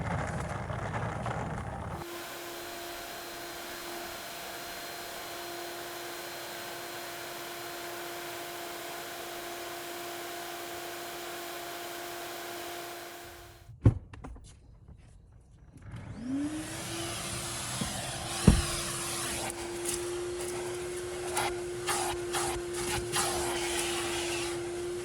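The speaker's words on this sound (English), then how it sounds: "Now the final step is to bust out the vacuum." A vacuum cleaner works over a car's interior, droning steadily for about twelve seconds, cutting off briefly with a few clunks, then whining back up to a high, even hum.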